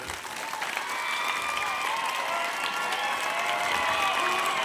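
Steady, sustained applause from an audience at a memorial anniversary gathering for a school, a dense wash of many hands clapping at moderate distance, holding evenly throughout.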